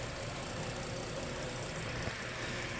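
A Ford Explorer 3.5L Ti VCT engine runs steadily nearby with a dense, even mechanical roar and no one speaking.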